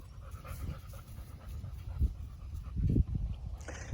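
A dog pants in quick, rhythmic huffs close by, the breathing bursts steady and soft with a few louder puffs toward the end.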